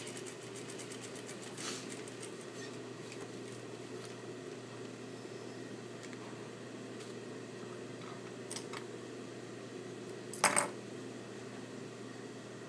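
A sewing machine runs steadily, stitching a seam along the waistband of a pair of shorts; its motor hum holds even throughout, with a short sharp clatter near the end.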